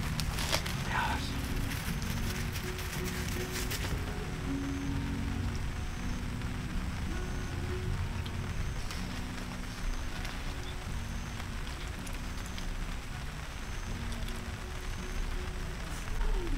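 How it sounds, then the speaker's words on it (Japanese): Steady rain falling at a campsite under a tarp, a dense constant patter with occasional louder drips and soft movement sounds, no talk. "雨の方降ってきましたね。"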